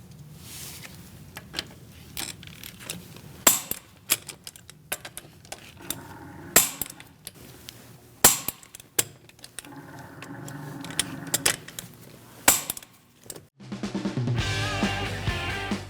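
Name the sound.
torque wrench tightening wheel lug nuts with 17mm socket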